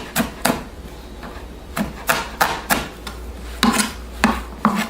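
Kitchen knife dicing an onion on a cutting board while making cream of potato soup, a run of about ten crisp chops at an uneven rhythm, close and fairly loud with no talking.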